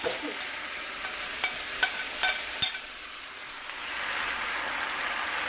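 Stuffed baby eggplants (bharwan baingan) fry in a skillet with leftover spice mixture, giving a steady close sizzle that swells toward the end, broken early by a few sharp utensil taps and scrapes.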